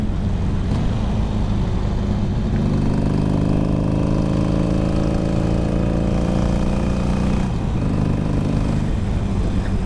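A Harley Davidson 883 Sportster's V-twin engine with a loud exhaust note rumbles steadily under way, a continuous deep throbbing drone that shifts slightly in pitch as the bike rides on.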